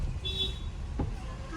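A vehicle horn gives a short toot amid steady road traffic rumble on a route in India, one brief honk heard at moderate distance over the engine noise.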